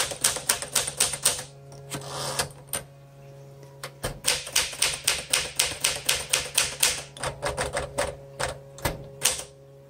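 Rapid keystrokes on a 1961 Smith Corona Sterling 5A manual typewriter, sharp clacks in quick bursts with a brief pause and a carriage bell or shift clunk, close and clear with no talking.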